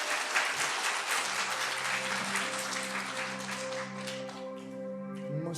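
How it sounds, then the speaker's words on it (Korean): Audience applause fills a church during a Friday worship service: steady, dense clapping throughout, with sustained musical tones emerging beneath it toward the end. "박수를 주세요."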